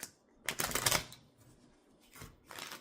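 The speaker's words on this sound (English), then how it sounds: "Good, hard, solid shuffles there." Tarot cards get hard, solid shuffles in quick riffling bursts, two distinct rounds of crisp flutter separated by a brief pause, close and fairly quiet.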